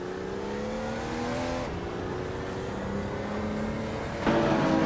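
Engine note of a 1993 Ford Mustang SVT Cobra racing in a video game, a steady droning rev with gear shifts and rising pitch, then a louder, rougher surge near the end; no talk.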